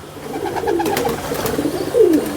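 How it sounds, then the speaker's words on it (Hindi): A Salara pigeon on a rooftop gives soft, low cooing calls in a few rounded phrases, close and fairly clear over a steady background hum, with no talk. "सलारा कबूतर है ये।"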